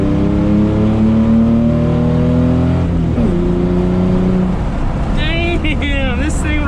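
A car fitted with a 327 engine accelerates while being driven, its engine note rising steadily in pitch as it pulls, then dropping with a shift. Road noise runs underneath throughout, and a brief whine appears near the end.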